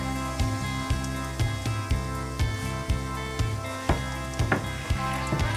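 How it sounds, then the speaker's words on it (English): Ginger sizzles and crackles in a hot pan, a steady frying hiss with repeated soft clicks and stirring bumps, close by. "Do you see it starts to sizzle?"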